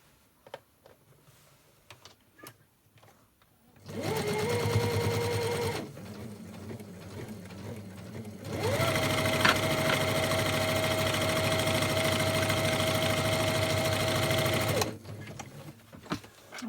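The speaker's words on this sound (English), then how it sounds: "you're going to sew across there. Make sure you get the corners in" A sewing machine stitches across lunch bag fabric in two loud, steady mechanical runs, a short one and then a longer one, with quiet handling sounds before, between and after.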